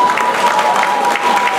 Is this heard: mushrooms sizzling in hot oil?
no